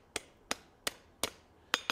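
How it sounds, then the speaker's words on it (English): Hammer blows on forged steel box jaw tong blanks, knocking out a twist: six sharp, ringing strikes at a steady, roughly evenly spaced rhythm, moderately close with no talk. "So we're just going to hammer out what bit of the twist that we can hammer on and get adjusted"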